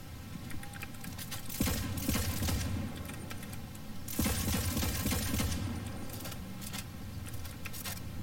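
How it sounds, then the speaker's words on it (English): Gunfire during a solo Fortnite-style battle royale tournament match: a quiet, constant crackle of distant rapid shots with two louder bursts of fire standing out, all fairly muffled and far off. "Kid shooting over here."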